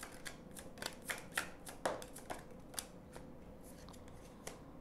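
Tarot cards are shuffled and drawn for a reading, giving soft, rapid papery riffles and flicks at low volume, a busy rustle with occasional sharper snaps.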